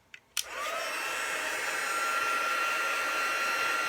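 Heat tool blowing steadily on a stamped paper card to dry it, a continuous close whooshing hum with a faint whine, starting after two brief clicks.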